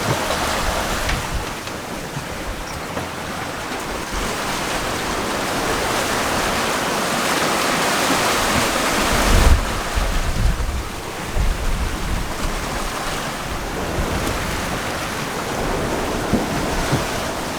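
Wind and ocean waves rushing around a sailing boat at sea on a grey, overcast day, a loud continuous wash of water and gusting air with surges and splashes, no voices.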